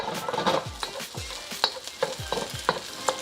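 Egg is stirred and broken up in a hot frying pan for fried rice: a steady sizzle runs throughout, with repeated scraping strokes and light utensil clicks against the pan. Everything is close and there is no talking.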